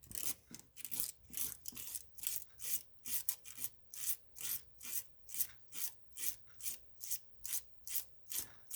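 Steady back-and-forth scraping as corrosion is cleaned off a car distributor cap, roughly two strokes per second, rasping and close, continuing evenly without any talking.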